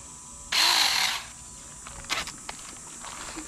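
A battery-powered tree-cutting tool's electric motor whirs loudly for about half a second, then stops, followed by faint clicks, rustling and light handling noises outdoors.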